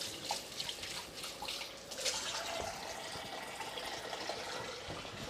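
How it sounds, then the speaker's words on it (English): Hot water runs from a tap into a kitchen sink, a steady splashing hiss with small irregular drips and gurgles, fairly close and moderately loud, with no talking. "I really need to get some hot water in this sink"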